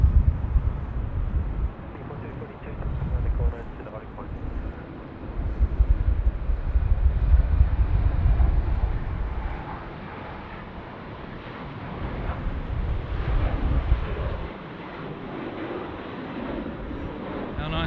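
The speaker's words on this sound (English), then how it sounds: "That one's going off to Townsville, the Embraer." Embraer jet departing Sydney Airport for Townsville, heard as a distant, steady low engine roar that swells and fades over time, with wind buffeting the microphone.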